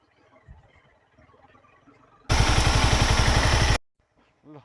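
A Honda CBR250R small sport motorcycle on a mountain road between Besisahar and Manang roars close by for about a second and a half, a loud pulsing engine note between quieter rustling and faint background sounds.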